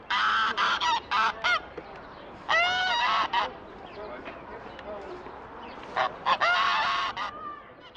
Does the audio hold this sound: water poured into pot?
no